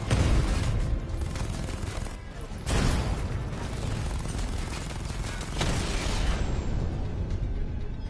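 Continuous gunfire and explosive bursts from the video game Batman: Arkham Knight, dense and loud throughout with heavier surges at the start and middle, no voices over it.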